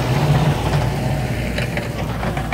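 A Deutz Agrotron 6160 tractor engine runs steadily and loudly up close, a constant low droning rumble with a slight rise in revs, no voices over it.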